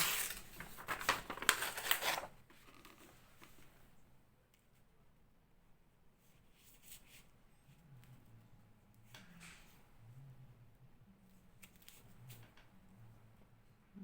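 Paper bag torn by hand for a journal: a loud, brief ripping burst at the start, then quiet rustling and faint handling of paper.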